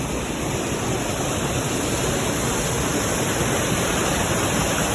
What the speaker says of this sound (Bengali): জলের গতিটা একবার শুধু দেখুন, আওয়াজটা আসে আসছে পরিষ্কারই